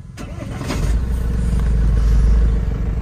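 A Tata Harrier with its engine warning light on cranks briefly and fires up, settling into a loud, steady low idle close to the microphone.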